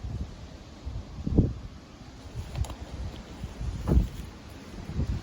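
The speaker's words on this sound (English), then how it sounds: "It's kind of windy" Low rumbling wind buffeting the microphone in irregular gusts, fairly faint, with a few stronger blasts.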